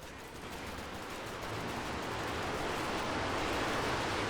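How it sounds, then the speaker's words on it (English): Nebelwerfer rocket artillery barrage in Company of Heroes 2, a broad rushing roar that swells steadily and holds loud with no distinct individual impacts. "here comes the Nebelwerfer barrage. Close range Nebelwerfer barrage"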